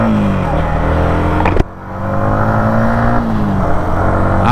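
Yamaha MT-15 version 2 motorcycle engine running loud and close, a steady drone that briefly dips around a gear change, then rises again as the bike rides off accelerating.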